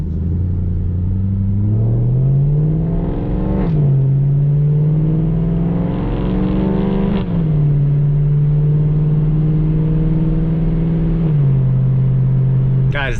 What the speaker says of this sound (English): the sound from this S65 is just, it's unreal, man. Especially with the 4-pipe mod